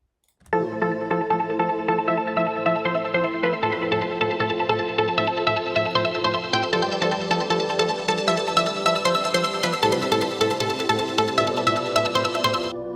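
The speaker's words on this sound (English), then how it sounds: "So I actually added these pads, and they have this chord progression." Omnisphere synth pads play a sustained chord progression for a new school trance track, with full, lush chords changing every few seconds and growing brighter and denser toward the end. No voices.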